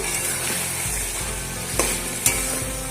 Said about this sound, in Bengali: ভালো করে সমস্ত চিকেনটার সঙ্গে মিশিয়ে নিচ্ছি